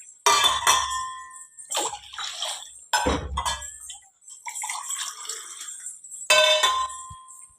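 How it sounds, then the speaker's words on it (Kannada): Water is poured in several separate bursts into a metal pot for a herbal decoction, splashing loudly and close with short clinks between pours. "ನಾಲ್ಕು ಗ್ಲಾಸು ನೀರು ಹಾಕಿಕೊಳ್ಳಿ"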